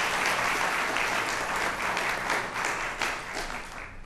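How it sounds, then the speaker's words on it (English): An audience at a Board of Education meeting award ceremony applauds for an outstanding young man: continuous, fairly even clapping from a seated crowd throughout, slightly thinning toward the end. "Let us give another round of applause to this outstanding young man."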